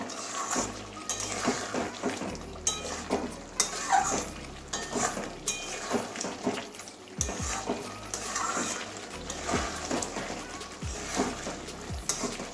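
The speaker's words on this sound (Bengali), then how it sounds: "এবারে ভালো করে মিশিয়ে নেব।" A spoon stirs Bengali chicken posto curry in a pan, producing repeated scraping clinks and soft wet sloshing at a close, moderate level, with a few sharper metallic knocks against the pan.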